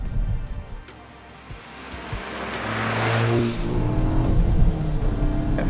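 A Volkswagen Golf GTI pulls away under hard acceleration, its engine building to a steady, fairly loud roar close by, with a rising whoosh midway and some road and tyre noise underneath.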